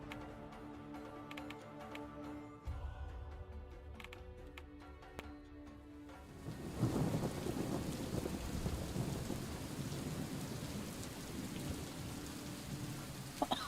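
Rain falls in the puzzle game Superliminal, starting faint, then swelling after a few seconds into a loud, dense downpour with thunder-like rumble that continues steadily to the end.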